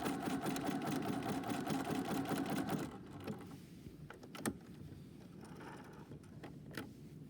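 A sewing machine zigzag stitching along a fabric edge, a loud steady mechanical whir for about three seconds that stops, followed by quieter clicks and handling sounds, with no speech.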